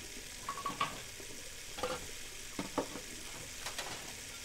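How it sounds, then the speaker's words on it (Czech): Food sizzles and fries while cooking in Beyond: Two Souls, a steady hissing spatter with a few light utensil clicks and taps scattered over it, fairly quiet. "Vařím jídlo."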